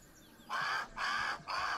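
A big bird in the Grounded video game gives three rhythmic clucking squawks after a quiet start. The evenly spaced calls are fairly loud and close, and no voices are heard.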